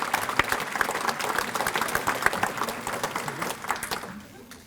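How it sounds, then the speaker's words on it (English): A luncheon audience at a volunteer recognition event gives a round of applause, clattering hands with scattered crowd murmur, fading down near the end. "Let's give them a round of applause"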